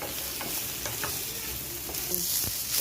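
Onion and tomato sauté in oil for a few seconds, a dense close sizzle with soft spatula scrapes against the pan, no voices.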